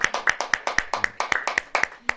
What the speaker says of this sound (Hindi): ताली बजाएं पहले, ऐसे बजेंगे, ऐसे बजेगी ताली